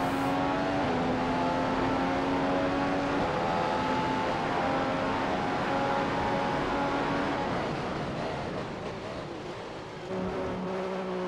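F1 race cars lapping the Austrian GP circuit in the video game F1 2015, a steady, loud engine drone with sustained high-pitched tones that shift pitch as the car accelerates, dipping briefly near the end before picking up again.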